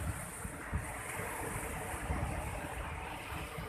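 Steady roar of storm surf washing ashore on a damaged beach in Seunuddon, North Aceh, broad and continuous with wind buffeting the microphone, no voices.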